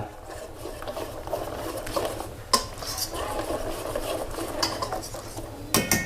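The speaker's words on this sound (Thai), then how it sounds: "แล้วก็คนผสมให้เข้ากัน" A spoon stirs a young coconut flesh and corn dessert mixture in a bowl, giving a steady soft scraping with a sharp clink near the middle and a few more at the end.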